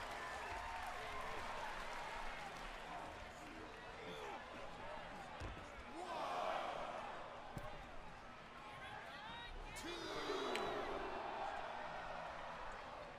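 A crowd cheers and applauds in a classic wrestling match in the WWE 2K video game, the roar swelling in two distinct waves amid thumps and ring impacts while a commentator talks over it.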